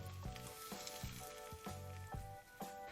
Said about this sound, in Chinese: 咱们将刚刚烧开的黄油倒到咖喱粉上